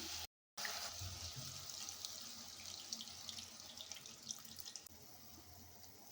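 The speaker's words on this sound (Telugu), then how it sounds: "ఇప్పుడు చింతపండు వాటర్ అయితే పోసుకుందాం." Tamarind water pours steadily into a cooking pot, a continuous close splashing and trickling that runs throughout after a brief silence at the start.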